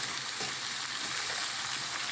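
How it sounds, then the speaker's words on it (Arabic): Chopped onion fries in a pan while being stirred, giving a steady, close sizzle and hiss with the soft scrape of stirring, and no talking over it. "وكنستمر في التحريك حتى كتشحر لي هذيك البصله"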